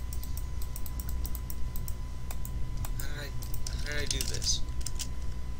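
Rapid mouse and keyboard clicks while playing the computer game Indra's Web, crisp close taps scattered in bursts under a low background hum, with a person speaking briefly.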